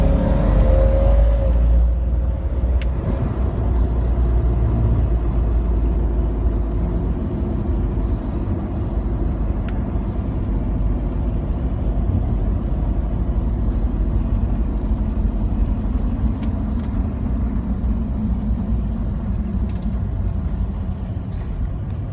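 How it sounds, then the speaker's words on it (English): A lifted Jeep Cherokee Sport XJ accelerating hard, its engine rising into a loud sustained drone with road and wind noise, heard from inside for over twenty seconds without speech. "I'm going to go ahead and do a hard acceleration."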